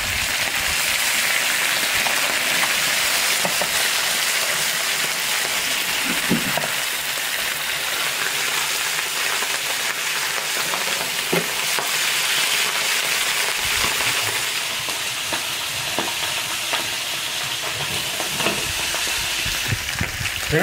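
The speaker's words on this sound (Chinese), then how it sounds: "首先把泥鳅煎香" Loaches fry in oil in an iron wok over low heat, a dense continuous sizzle and crackle with scattered pops and occasional scrapes, close and steady for about twenty seconds.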